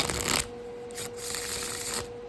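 Soft riffling and slapping of tarot cards on cardstock being shuffled up close, in a few quick bursts over a faint steady hum.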